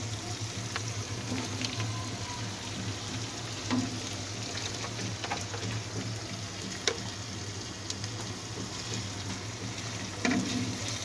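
Shredded cabbage goes into potatoes frying in masala in a pan, giving a steady close sizzle with occasional crackles and scraping stir sounds, with no voices over it.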